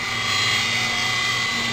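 A Blade mSR radio-controlled helicopter hovers nearby outdoors, its small rotor and motor producing a steady, loud, high-pitched whine and buzz throughout with no pauses.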